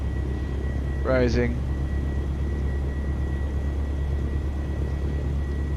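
Cessna 152 piston engine idling just after start in Microsoft Flight Simulator 2020, a steady low drone throughout while a voice speaks briefly over it.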